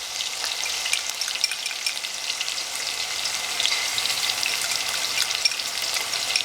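Mutton keema frying in a pan as a spoonful of paste is stirred in, giving a steady crackling sizzle with small pops, close and continuous with no voices.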